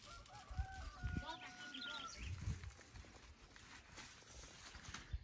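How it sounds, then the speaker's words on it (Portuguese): A hen clucks softly alongside high, thin peeps from her chicks outdoors in a rural backlands yard, fairly faint, with people talking nearby. "A galinha ali com os pintinhos,"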